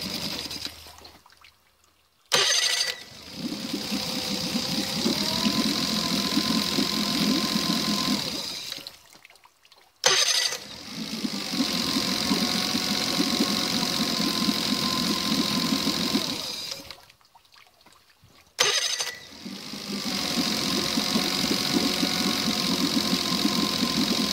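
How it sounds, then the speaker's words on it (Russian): A warmed-up Tohatsu EFI outboard motor runs steadily at close range after hard throttle, in three long stretches, each broken by a brief silent gap, with a constant hum and a high whine. "После большого газа нагретый двигатель"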